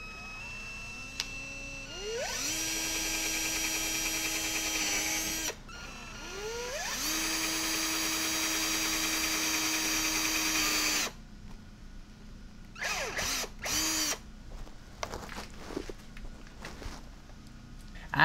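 A power drill whines in two long bursts, bit grinding into a Dodge Charger SRT Hellcat's metal bodywork, followed by shorter intermittent revs and quiet gaps.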